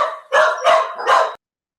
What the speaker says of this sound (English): an intervention from Jarko's dog, I think